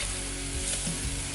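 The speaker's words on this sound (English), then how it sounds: "Oh yeah, you hear that sizzling?" Beef strips for Peruvian lomo saltado sizzle loudly in a hot pan as they are stir-fried, a dense and continuous crackling hiss close to the microphone with no talking.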